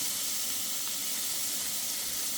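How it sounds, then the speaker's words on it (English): Steady, close sizzling and hissing of steaks frying on an indoor grill, with no voices. "you can probably hear the sizzle"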